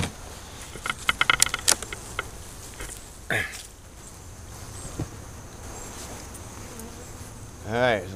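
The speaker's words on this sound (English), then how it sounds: "there's a lot of bees" Honeybees buzz continuously with a steady hum at an open hive during an autumn inspection, along with scattered clinks and knocks of handling close by and a brief louder buzz passing near.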